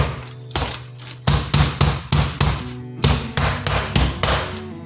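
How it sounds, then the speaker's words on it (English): Repeated heavy thumps of a mallet pounding chicken on a board, about a dozen blows in uneven bursts, close and loud. "This motion, you hammer and pull away from you."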